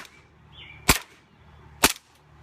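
Two sharp, close airsoft pistol shots crack about a second apart, each a brief loud snap over a quiet background with a faint hum.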